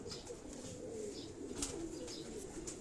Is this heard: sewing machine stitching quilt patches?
no